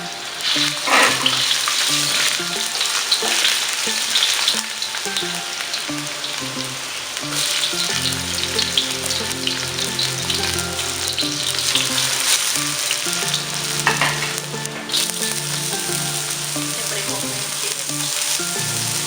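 Pancit noodles with chicken liver and other ingredients sizzle and fry steadily in a hot pan, a loud continuous crackle with occasional stirring and scraping, no voices.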